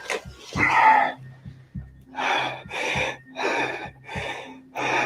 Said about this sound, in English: Here goes the fake heavy breathing.